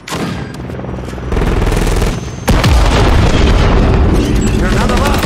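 A loud, close grenade blast in Call of Duty Modern Warfare III cuts through ongoing gunfire, followed by a heavy rumbling roar of battle noise.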